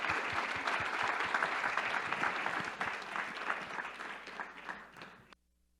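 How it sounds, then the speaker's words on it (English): Conference plenary audience applauding after a biodiversity-finance session: dense, sustained clapping that fills the room, slowly thinning toward the end before stopping abruptly. "A big applause, people."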